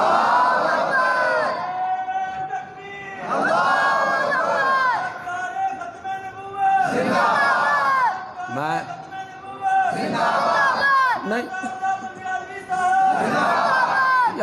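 Large crowd at a Quran lesson gathering chanting religious slogans in loud, rhythmic call-and-response bursts, with several surges separated by short pauses and a speaker's voice between them.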